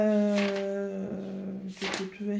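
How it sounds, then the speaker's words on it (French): A neighbour's dog barks and growls in bursts nearby, a harsh, drawn-out yelling bark with short pauses between outbursts. "C'est rien, c'est le chien du voisin qui gueule"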